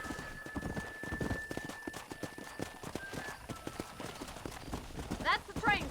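Steady, rhythmic clip-clop of horse hooves at a trot in the video game Red Dead Redemption, fairly close and constant, with a faint high tone and a short chirping burst near the end.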